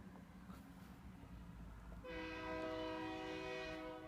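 A train horn blares near a railroad crossing, entering loud and sustained halfway through over low rumbling background noise and holding steady to the end.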